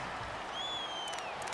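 Steady, diffuse stadium crowd roar from Madden 19 during a Dolphins vs Bills game, with the home crowd loud against the offense. The roar holds a constant level, with faint whistle-like tones and brief crackles over it.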